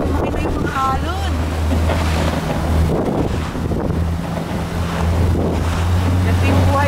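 Waves wash and slap around a Zodiac boat off Cuverville Island, Antarctica, under constant heavy wind buffeting and a low motor drone, loud and close, with brief voices in the background.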